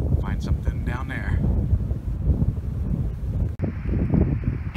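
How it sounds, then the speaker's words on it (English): Wind gusts across an open hillside on Catalina Island, a steady low rushing roar with microphone buffeting, with a person speaking over it near the start. "I don't know if you can hear me over the wind here"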